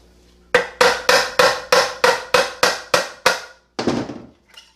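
Metal tool strikes on an Acura MDX transmission cover being loosened: about nine loud, evenly spaced ringing taps in quick succession, then a brief pause and two more hits, close and alone.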